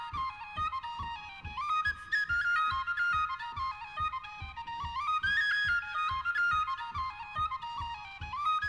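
A tin whistle plays a lively, bright melody of quick ornamented notes over a steady, soft rhythmic backing beat, heard clearly and alone.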